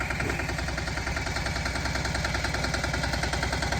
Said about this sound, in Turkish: traktörün girmediği yere tırtırla giriyoruz şimdi